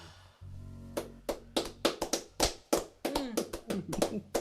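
A small live-session audience claps in sharp, separate strikes, a sparse and uneven run of individual claps close by over a low steady hum.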